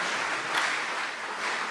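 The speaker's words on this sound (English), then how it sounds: "Let's give a round of applause for the 23-24 Tigers football team." A crowd at a college baseball and softball First Pitch Mingle applauds the Tigers football team, a steady dense wash of clapping at moderate volume with no voices over it.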